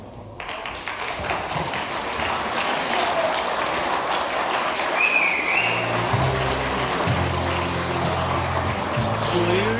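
A large high school crowd bursts into sustained, dense applause for a Counter-Strike champion. The clapping is loud and even throughout, with faint chatter and a few whoops underneath.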